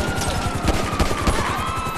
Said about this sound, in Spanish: Vamos a pegarle 4 tiros a la vida a la policía, Guillo.